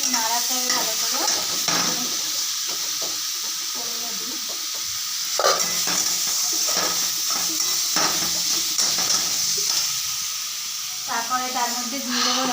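Olives cooking in a pan for chutney are stirred with repeated scraping strokes over a continuous soft sizzle and hiss, close and moderately loud.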